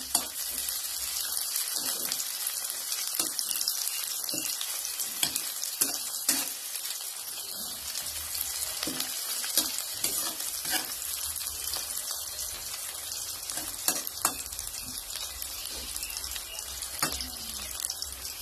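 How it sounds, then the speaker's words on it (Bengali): Onions fry in a pan for chicken kosha, a steady, dense sizzle throughout, broken by intermittent scraping and clinking of stirring, with no talking. "আস্তে আস্তে ফ্রাই করে নেব।"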